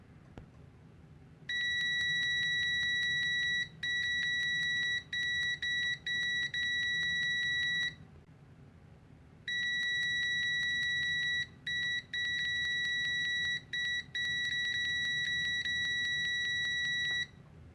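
A WinAPEX ET8103 budget multimeter in continuity mode gives a loud, steady high-pitched beep in long bursts broken by brief gaps, with a quiet pause midway before the tone resumes.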